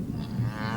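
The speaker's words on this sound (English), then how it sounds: "More cows around that side than in the little valley bit." A cow moos once in a low, drawn-out call out in an open field, close and fairly loud, with no talk over it.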